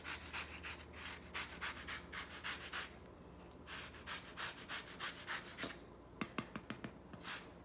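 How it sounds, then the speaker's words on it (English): Lemon zest grated on a handheld zester for a dairy Shavuot treat, heard as quiet, repeated rasping strokes in short bursts with brief pauses, close and soft, with no talking. "adding some lemon zest to make it a little more festive looking."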